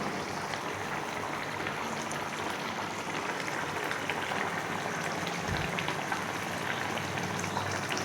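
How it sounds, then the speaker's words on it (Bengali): Hilsa fish curry in a mustard-oil gravy bubbles in a pan. It makes a dense, steady crackle like light rain that stays even and moderately faint throughout. "মাছের ঝাল আমার ফুটছে"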